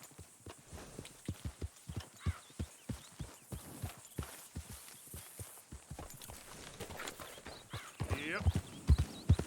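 Rhythmic hoofbeats clip-clop along at a steady pace in Red Dead Redemption 2, with a horse whinnying near the end.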